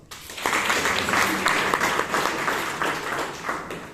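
A meeting audience claps in a sustained round of applause, steady and fairly close, with a faint voice briefly audible underneath.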